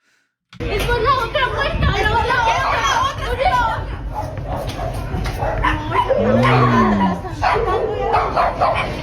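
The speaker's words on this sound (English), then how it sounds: "That dog's having a go." A dog barks and yelps repeatedly amid agitated voices and chatter, loud and close, with some whimpering cries mixed in.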